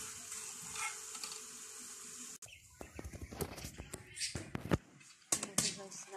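Melted sugar is poured into hot oil for Masbate-style biko, a sweet glutinous rice dish, and bursts into loud crackling sizzle after a quieter start, with popping bursts continuing to the end.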